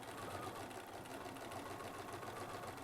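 Domestic sewing machine stitching a seam on a quilt medallion, a steady fast whirring hum that runs unbroken and fairly quiet throughout, with no talk.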